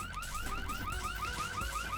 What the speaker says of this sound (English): when the alarm trips, the bots respond in